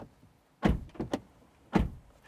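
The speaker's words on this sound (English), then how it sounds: "And this is what our door slam sounds like." A Mazda CX-80 SUV door is shut, giving two or three solid thuds with a short rattle between them, fairly close and otherwise quiet.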